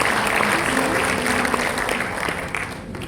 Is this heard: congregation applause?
yes